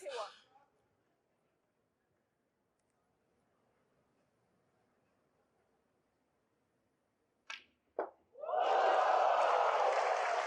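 A snooker crowd at the Shanghai Masters final breaks into loud, close applause and cheering after a long near-silence broken only by a few sharp clicks.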